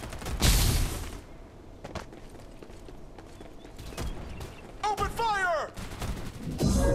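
Gunfire in the shooter game Farlight 84: a loud broadband blast near the start, then scattered sharp shots and impacts. A burst of quick chirping, whistling tones comes midway, with more firing building toward the end.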